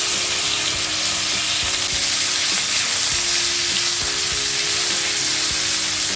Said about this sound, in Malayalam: നേരത്തെ അരിഞ്ഞു വെച്ചിരിക്കുന്ന 2 തക്കാളി അരിഞ്ഞത് വെച്ചിട്ട് കൊടുക്കാം